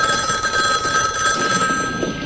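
A telephone bell rings loud and close, a continuous metallic trill sustained throughout, with no talking over it.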